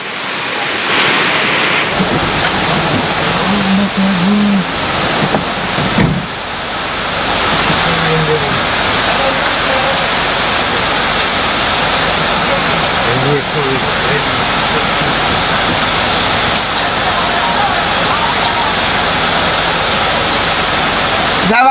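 A flooded river rushes past in a loud, broadband roar of churning water that holds steady throughout, with people talking faintly beneath it.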